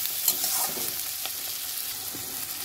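Steady sizzle of onions frying in a pan with occasional scraping stir strokes, fairly close and continuous, no voices.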